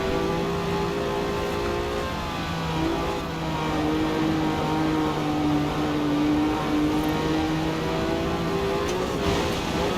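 A Renault engine holds a steady high drone while drifting in Forza Horizon 4, loud and continuous with slight pitch swells and no talking.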